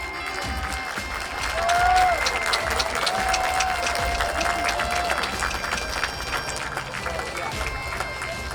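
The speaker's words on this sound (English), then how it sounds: "another big round of applause for all of our hardworking and dedicated seniors" A crowd at a high school football game applauds seniors with loud, sustained clapping and cheering that swells early, then holds steady as a voice carries over it.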